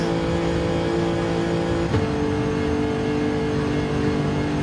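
A Lexus GT2 race car in Gran Turismo 7 holds a steady, loud engine drone from on board, with a brief pitch drop at a gear shift before the revs climb again.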